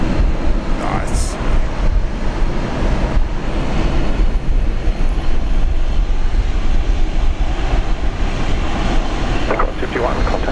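Qantas flight 51 passenger jet departing Brisbane airport, a loud, continuous broadband roar of jet engines filling the scene, with faint voices and brief knocks over it.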